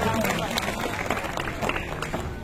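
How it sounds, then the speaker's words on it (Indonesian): Applause from an audience at an alumni sharing session, a fairly faint, dense patter of claps mixed with crowd murmur, continuous for a couple of seconds. "Boleh tepuk tangan ya"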